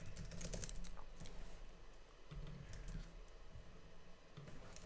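Code is typed on a computer keyboard in quick, uneven bursts of light key clicks, close and soft, with short pauses between words and no speech.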